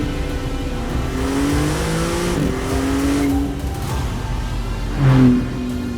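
A 2022 Maserati MC20 supercar driven hard toward its 8,000 RPM redline, its engine note droning and rising in steady revving sweeps, with a louder surge of acceleration near the end and no talking.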